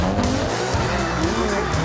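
Drift cars skidding at the D1GP season kickoff demo round, with a continuous loud tire squeal over roaring, revving engines, close and dense throughout the short burst.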